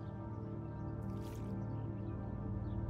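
Water sloshing softly in a photo developing tray in the game Martha is Dead, a brief wet swish under a steady low game ambience.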